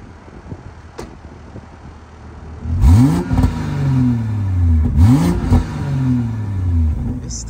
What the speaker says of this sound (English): All right, so we're going to put it in comfort and we're going to rev it.